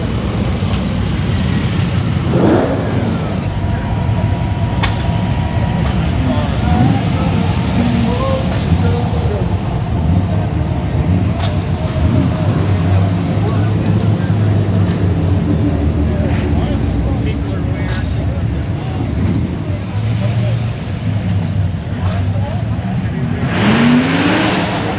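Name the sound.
classic convertible car with 4-speed driving at car show cruise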